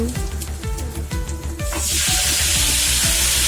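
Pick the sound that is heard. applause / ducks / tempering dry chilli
tempering dry chilli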